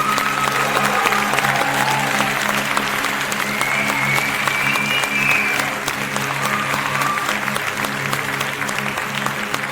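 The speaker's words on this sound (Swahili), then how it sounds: "Tunapiga makofi kwa ajili ya" Audience clapping at a celebration, steady and dense applause throughout at constant loudness, with sustained tones and a faint voice rising through the middle.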